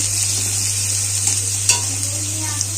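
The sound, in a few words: chopped onion and chilli frying in oil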